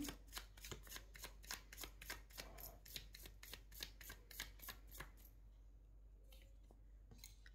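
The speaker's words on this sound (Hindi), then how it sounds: "last time shuffling" Tarot cards shuffled in rapid, crisp riffling bursts for about five seconds, each flick a sharp papery snap close to the mic, before the shuffling stops and leaves a quiet room.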